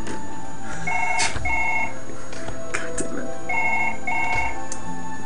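A telephone rings inside the video game Surgeon Simulator 2013, its electronic trill sounding in several short repeated bursts, with the player talking over the rings.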